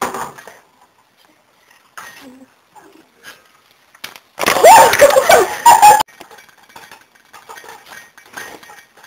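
Popcorn kernels popping in canola oil in a pan, a dense burst of sharp crackling pops lasting a couple of seconds, with sparse quieter clicks and ticks before and after.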